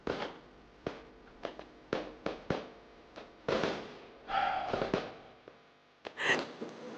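Several sharp bangs and pops burst at irregular intervals, some close and loud, with crackling bursts in between and no talking.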